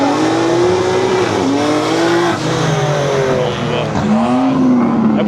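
A loud, close engine of a tuned BMW 540i revs hard with wavering pitch as all four tires squeal and spin, the roar rising and falling over several seconds.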